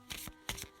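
Tarot cards are shuffled in two quick bursts of soft riffling and rubbing at close range, ending in a brief sharp snap.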